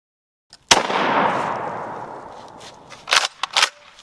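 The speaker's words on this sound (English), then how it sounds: "Let's shoot it with one hand." A single loud, close shotgun blast from a UTS 15 or M&P 12 fired one-handed, its sharp crack decaying over a couple of seconds, followed by a few quick clicks and rattles of handling.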